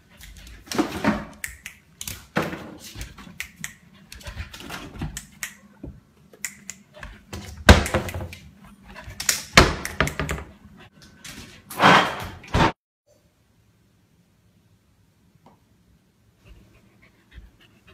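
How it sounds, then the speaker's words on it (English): A dog nudging household drawers shut: a series of sharp wooden knocks and clatters, some close and loud, spread irregularly over about twelve seconds, with faint panting between them, then near silence. "Choki, close the drawers."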